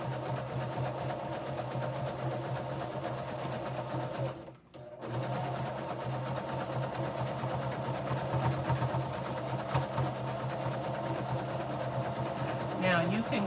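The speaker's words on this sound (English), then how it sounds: "You're just going to do a zigzag stitch. And that's just going to help to close up the seams" Sewing machine running steadily as it zigzag-stitches along the seams of a homemade Christmas stocking, a continuous close whirring hum with one brief pause partway through.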